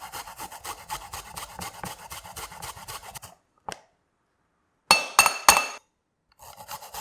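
Ginger being minced with a knife on a cutting board: a quick, steady run of close, crisp chops for about three seconds, then silence broken by a few sharp clinks and taps.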